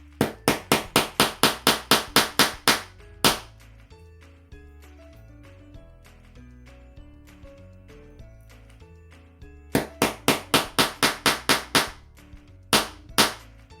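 Nails are hammered into a wooden board for string art, with two bursts of quick, sharp, loud strikes in rapid series separated by a quieter stretch of softer taps and clinks.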